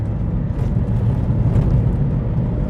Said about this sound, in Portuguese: tô em terceira a 30 km por hora, ó, uma apertadinha, eu nem reduzi, ele já começa a ganhar velocidade, já começa a acelerar